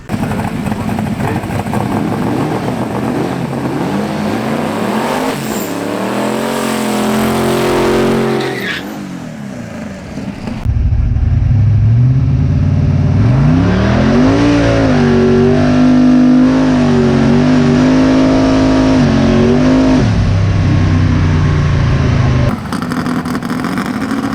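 A 1941 twin turbo big block Willys pickup races around a track, its loud engine revving and roaring up and down through gear changes, with a brief drop before it surges back close and sustained.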